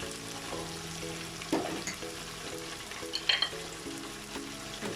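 Turmeric goes into a sizzling pan of tomatoes for a chickpea and paneer biryani and gets stirred, a steady low frying hiss with a few louder scraping and clattering stirs, nearby and without speech.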